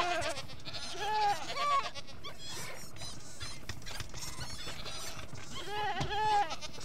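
Goats bleat in Minecraft, several nasal, wavering calls arriving in bursts over busy game sounds and a steady background bed, fairly loud and close.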